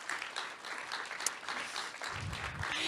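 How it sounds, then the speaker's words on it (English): Audience applause at the Parker Solar Probe launch event, a steady, dense wash of clapping that holds throughout and swells slightly toward the end, with no talk over it. "Let's have another round of applause for Dr."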